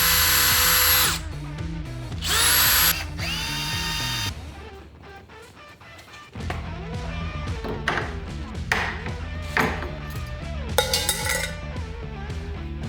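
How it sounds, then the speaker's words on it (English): A power drill whirs in loud bursts that rise and fall, then gives way to shorter buzzing runs with clicks and taps, close by. "So just gonna drill in spots here."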